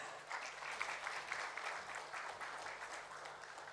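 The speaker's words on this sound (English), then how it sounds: "A big round of applause." An audience at an official felicitation ceremony applauds with steady, fairly soft clapping that swells slightly and then tapers off.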